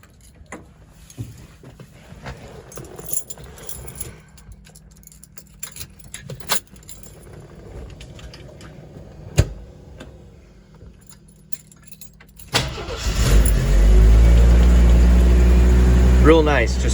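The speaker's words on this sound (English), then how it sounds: "So here's a little demonstration of it starting up." A 1981 Jeep CJ7's inline six cranks and catches near the twelve-second mark, then settles into a loud, steady idle that carries to the end; before that come quiet key jangling and handling sounds.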